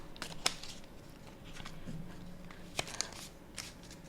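Tarot cards are shuffled and flicked in a quiet room, giving soft papery rustles with a few sharp snapping clicks near the start and again later, faint and close.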